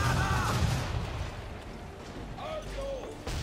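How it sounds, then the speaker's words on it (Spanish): Ship cannons firing a broadside in Assassin's Creed 3, heavy booming blasts at the start and end with rumbling between, while faint shouting voices carry over the battle. "¡Una andanada!"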